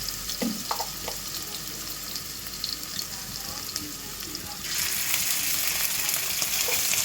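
Chopped garlic and ginger frying in a pan after cumin seeds, a steady sizzle with a few stirring knocks early on, then the frying swells louder and brighter partway through.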